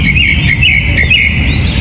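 A bird chirps in short, bright, repeated calls, loud and close, over a steady background hiss.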